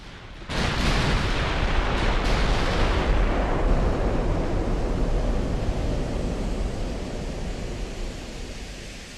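Heavy 14-inch naval guns from a battleship boom in a naval combat game, one loud broadband blast followed by a long rolling rumble that gradually fades over several seconds, with no talking.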